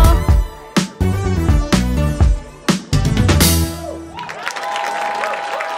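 Applause breaks out at a concert premiere as a song ends, the final musical notes giving way to a broad wash of clapping from the audience.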